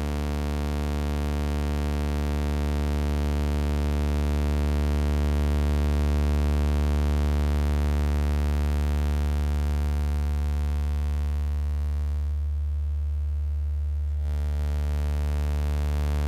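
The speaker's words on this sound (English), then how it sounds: "That's the saw wave" A steady, buzzy saw-wave tone from a Pioneer DJ SP-16 sampler holds unchanged throughout, bright and harmonically rich, with a brief dip in the upper range near the end.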